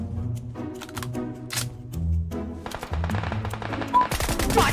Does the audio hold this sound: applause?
no